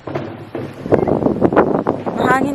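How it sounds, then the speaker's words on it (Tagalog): Wind buffets a microphone outdoors on a warm, sunny day, producing a steady low rumble with gusty swells and no voices. "Mahangin nga lang."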